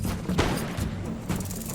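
Guard infantry fire musket volleys in an Empire Total War battle, a dense crackle of distant shots with a few heavier thumps rising out of the rolling din.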